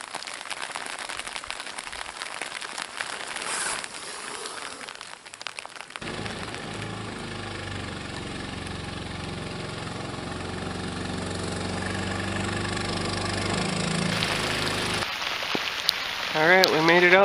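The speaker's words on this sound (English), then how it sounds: "we made it out to our blind, and it's raining really hard" Heavy rain pours steadily outside a duck hunting blind, a loud, continuous wash of hiss that swells after the first few seconds, with a low rumble and some movement noise underneath.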